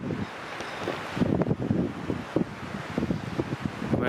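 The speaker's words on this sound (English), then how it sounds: "I don't know if you can hear how windy it is, but it's really windy out." Strong wind buffeting the microphone beside a lake in Minnesota, gusty rumbling bursts that rise and fall unevenly, close and rough, with no speech.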